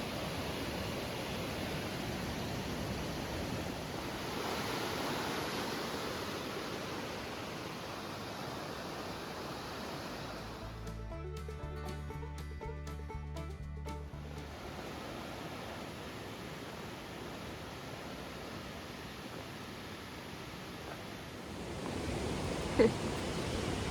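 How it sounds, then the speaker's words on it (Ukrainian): A swollen mountain river in the Carpathians, high after heavy rains, rushes in a continuous broad roar that fills the whole scene, with a short muffled stretch in the middle. "Дощів було багато, тож річка повноводна."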